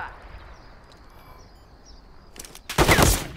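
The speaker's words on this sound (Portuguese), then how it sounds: "Atirando!" Gunfire in the video game Call of Duty Modern Warfare III arrives as a sudden loud burst of rapid shots near the end, after a quiet stretch of background ambience.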